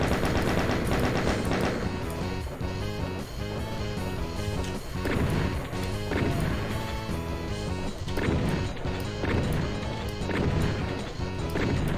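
In the Final Doom shooter, chaingunner enemies fire in a dense, continuous clatter of rapid gunshots that runs for several seconds amid loud game sound effects, with no one speaking.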